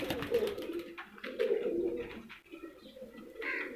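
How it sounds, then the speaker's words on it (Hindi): A desi pigeon from Mianwali coos in repeated low, throaty rolls, close and clear, with no one talking over it. "ये जी बिल्कुल देसी जिसे कहते हैं हमारे मियांवाली का देसी कबूतर"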